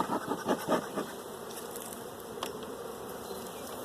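Honeybees buzzing around a hive box, a close, busy insect drone with a few louder passes near the start as bees fly by, no voices.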